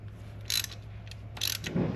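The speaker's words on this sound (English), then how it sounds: "we're going to continue to tighten this nut down" Two short ratcheting bursts from a wrench snugging a pushrod rocker nut on a 1990 K1500 engine, close and fairly quiet over a steady low hum, with a soft thud at the end.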